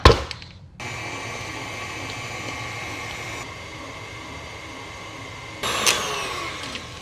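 An electric hand mixer whirs steadily as it beats butter, sugar and egg into cake batter, a continuous close motor hum with a brief louder burst near the end.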